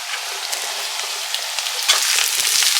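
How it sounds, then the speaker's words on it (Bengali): Vegetables and onions frying in hot mustard oil, a loud, dense, continuous hissing crackle that flares a little louder near the end, with no voices. "কারণ সবজিগুলো ফ্রাই করতে হবে"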